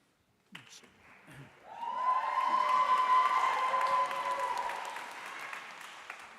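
After a brief announcing voice, an audience at an awards ceremony for Harvard Kennedy School honorees breaks into loud sustained applause with some cheering, swelling quickly and then slowly tapering off.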